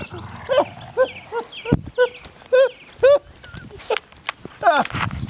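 Puppies whimper and yelp in short, high, wavering cries, several overlapping in irregular bursts close by, with a person talking among them.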